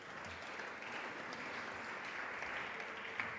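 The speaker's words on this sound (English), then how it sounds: "So give him a good round of applause, please." Faint, steady applause from a seated audience at an entrepreneurship development program session, an even wash of many hands without pause.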